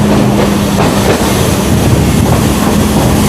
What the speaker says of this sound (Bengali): গঙ্গার পাড় দিয়ে আমাদের ট্রেন এগিয়ে যাচ্ছে।